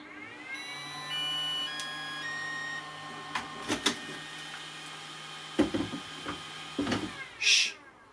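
A series of electronic tones and short beeps from a Makita 40V dual rapid battery charger as charging starts, with steady high tonal lines, a few clicks and a brighter chime near the end.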